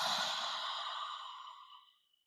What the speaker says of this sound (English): you're going to breathe out through your mouth